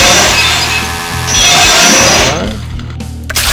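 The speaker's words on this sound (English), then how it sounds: "Now then, chainsaw." Chainsaw in the video game Brutal Doom 2, a loud revving engine buzz with shifting pitch, then cutting off as other game sounds follow.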